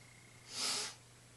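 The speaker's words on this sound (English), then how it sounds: "I'm going to sneeze." A single short sneeze, faint and close, rising and fading within about half a second against quiet background hiss.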